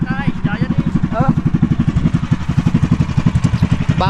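A new engine runs nearby at a fishing village, with a fast, regular knocking thump like a small motorcycle-style idle and voices over it.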